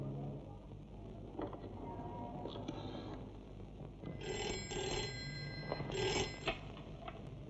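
A telephone rings at a small roadside shop where cigarettes are sold, several bursts of ringing rising over steady background hum and faint talk.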